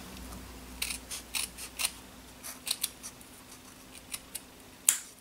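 Scissors snipping through ribbon, a string of sharp separate cuts spaced irregularly, close and crisp against a quiet background, with no talking.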